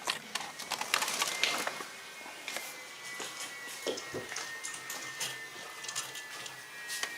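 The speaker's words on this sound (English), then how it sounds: "I can hear the pump running actually." Electric water pump on a 2007 BMW X5 running, a faint mechanical whir with light ticking and clicking over a quiet background, no talking.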